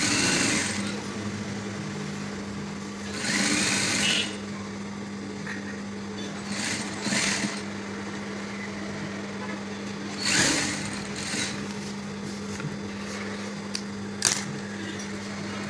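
A sewing machine stitches a waistcoat lining with a steady hum running throughout, broken by several louder bursts of fabric handling.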